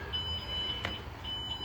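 Steady high electronic beeping tones from a boat's electronic throttle controls, not yet assigned to upper or lower helm, repeat in a pattern with a short gap and a brief click partway through, over a low background hum.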